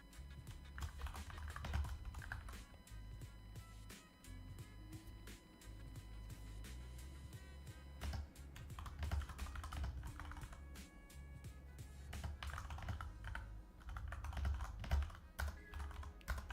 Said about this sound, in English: Sorry for typing in you guys' ear.